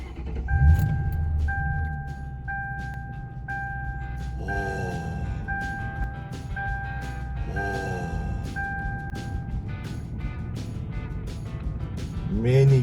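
A 2004 Ford Panther platform car sits with its key in: keys jangle, a repeating ignition chime dings about once a second, and the engine starts and settles into a low idle, while people talk nearby.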